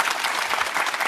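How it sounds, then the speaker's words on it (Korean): An audience at a live policy talk event attended by President Lee Jae-myung breaks into a brief burst of dense, steady applause. "여러분 격려의 박수 한번 크게 주시겠습니까?"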